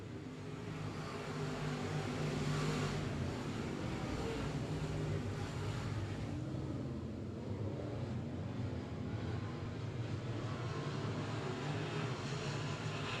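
Race cars circle the track at Cotton Bowl Speedway during a regular race program, a distant, faint engine roar that swells and fades slightly, with wind-like noise over a steady drone and no voices.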